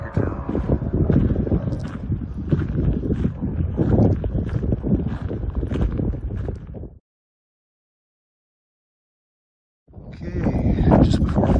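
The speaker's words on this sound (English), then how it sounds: "Wind is blowing, can you tell?" Strong wind buffets the microphone on a hiking trail near a highway before dawn, a loud steady roar that cuts out abruptly for a few seconds and then returns.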